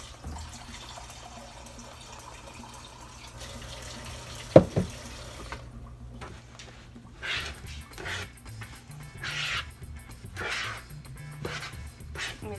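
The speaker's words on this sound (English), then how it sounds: "So I'm going to get another cup of water." Water runs from a kitchen tap into a cup after a clunk of handling, a steady hissing stream rising in pitch as it fills, close and moderately loud with no talking.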